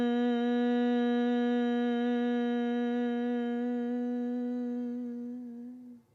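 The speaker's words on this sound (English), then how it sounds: "as you exhale, you're going to hum through the mouth and make a single tone hum" A single steady hummed tone on a slow exhale during bhramari breathing, one unbroken pitched drone with rich overtones lasting about six seconds, loud and close, fading out at the end with no talk.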